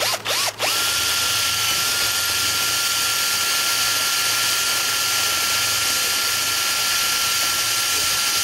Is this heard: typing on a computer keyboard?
no